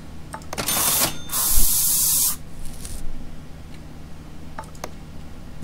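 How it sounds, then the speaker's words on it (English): A spray gun paints a car its factory colour in the paint shop of the video game Car Mechanic Simulator 2015: a short hiss, then a loud sustained two-second spray burst, followed by light clicks and faint ticking. "now I have to spray it the factory colour"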